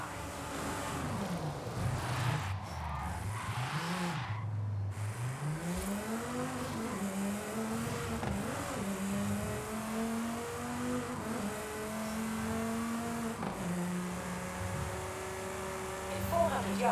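A Volkswagen Golf GTI races in Forza Horizon 5, its engine rising and falling in pitch through repeated acceleration and shifts, a continuous moderately loud drone with some talk in the background.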